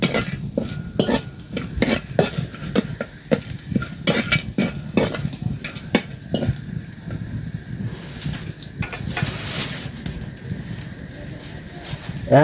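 Six cloves fry in mahua oil over low heat, a close, steady sizzle broken by frequent sharp scrapes and clinks of a spoon stirring the pan.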